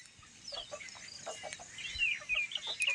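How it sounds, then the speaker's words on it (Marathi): Native desi chickens and roosters on a farm give scattered clucks and short calls at moderate distance over a quiet outdoor background. "प्युअर अशा गावठी कोंबडे आहेत."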